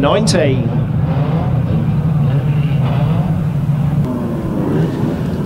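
Unlimited banger racing cars on the Kings Lynn shale oval at the start of the 2019 World of Shale Championship, a loud, steady rumble of many engines idling and rolling off together, with a voice talking over the top.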